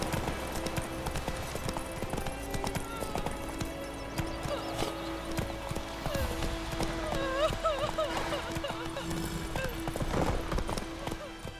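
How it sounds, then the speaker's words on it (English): A horse gallops in The Witcher 3 video game with a rapid, rhythmic clip-clop of hooves that continues throughout, over a bed of background game sound and occasional voice. "Come on, Roach"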